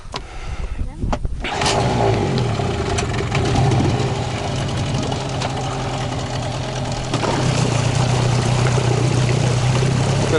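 An outboard boat engine on a river is started after a brief pull, then settles into a steady loud idle that rises slightly near the end, heard close with a voice briefly in the background.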